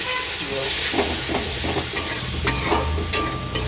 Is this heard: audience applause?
no